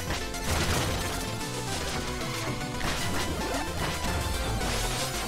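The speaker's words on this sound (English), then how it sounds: "he just Hulk smashed the whole fucking ground" Treasure Knight, a boss in Shovel Knight, slams the ground in a loud, crunchy smash that stays busy and sustained over dense, steady game music, with no talking.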